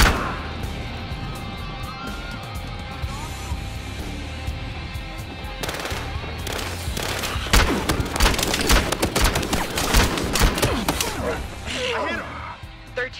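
Gunfire rattles through a Battlefield Hardline firefight, sparse shots early giving way to dense rapid bursts and booming reports in the second half, with voices heard among the shooting.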